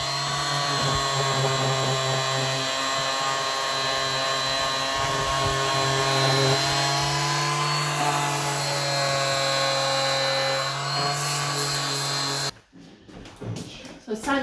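A power sander works wooden floorboards in a château hallway, a loud steady droning whine holding for about twelve seconds before cutting off abruptly, followed by quieter handling noises.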